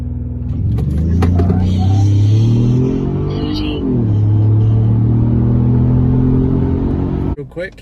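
A Ford F-150 EcoBoost pickup revs its engine while brake boosting, a deep close rumble that climbs, dips briefly, then holds high before cutting off abruptly.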